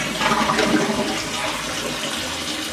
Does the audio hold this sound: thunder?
no